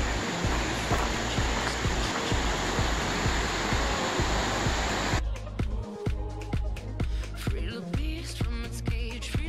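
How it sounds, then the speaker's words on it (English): A creek rushes near a covered bridge in Franconia Notch State Park, a steady broad wash of flowing water that turns thinner and more broken midway, with footsteps or handling noises over it. "There's the creek."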